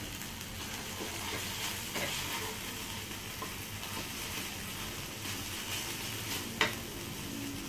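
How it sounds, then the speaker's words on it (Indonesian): Soft, steady sizzling of ground red chili paste frying in a pan, with faint stirring scrapes and one sharper clink of a utensil near the end. "kita tumis sampai harum."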